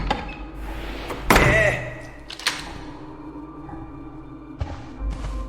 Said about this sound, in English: I suspect a gust of wind blew the door shut and then locked it.